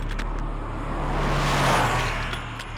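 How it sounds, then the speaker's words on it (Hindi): A car idles or rolls nearby with a steady low engine rumble and broad road noise, rising slightly in the middle, with no speech. "ये प्रियंका चोपड़ा की गाड़ी है।"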